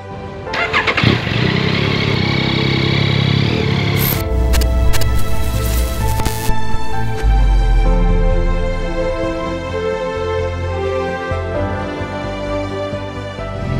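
A Yamaha Tracer 9 GT+ motorcycle engine starts up, revs loudly, then settles into a steady running drone that continues as the bike moves off.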